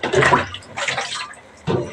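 Water poured from a container onto a kilo of basmati rice in a cooking pot, two close splashing bursts with a short third pour at the end, no talking.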